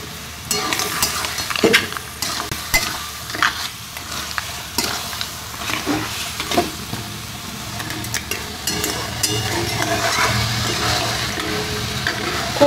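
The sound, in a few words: fried crabs being stirred in a pan for crab curry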